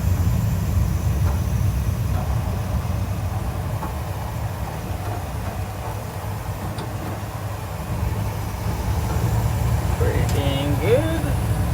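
A 1971 Ford F250 pickup truck nicknamed Hank drives along with a steady low engine rumble and road noise, heard from inside the cab, with brief faint rattles near the end.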